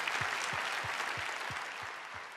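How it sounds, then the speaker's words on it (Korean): A church congregation applauding at a revival meeting, a steady wash of many hands clapping together, fairly loud and close throughout, with a low rhythmic thump under the clapping. "하나님께 영광의 박수를 올려드리길 원합니다."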